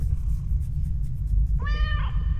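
Cat meowing in the horror game The Stairway 7 Demo, a single clear, close meow that rises and then falls, heard over a steady low background drone.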